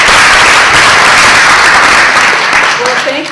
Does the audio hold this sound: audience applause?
yes